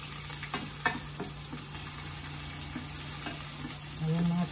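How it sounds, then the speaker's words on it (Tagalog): Onions sizzle in a hot frying pan, a steady close crackling hiss with occasional stirring clicks, ending slightly louder as the sizzle intensifies. "mainit na ang ating kawali at nilagay ko na ang onions"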